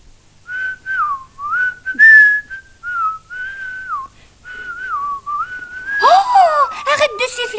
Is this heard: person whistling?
yes